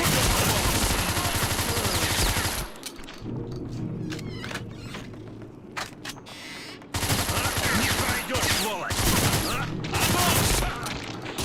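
Dense, continuous rapid gunfire in a Doom mod game, loud and close, dropping out for a few seconds of quieter scattered shots before the heavy fusillade resumes.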